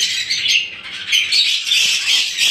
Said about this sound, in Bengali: এখানে অনেক পাখির ডাকা ডাকির কারণে বোঝা যাচ্ছে না